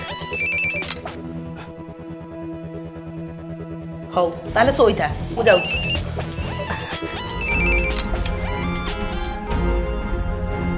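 A phone ringtone plays a tinkling electronic melody, followed by a brief clatter and then another ringing tune, while people talk over it.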